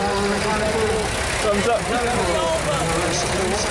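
A vintage tractor engine runs steadily at an agricultural show, a continuous mid-pitched mechanical drone nearby, with someone talking over it throughout.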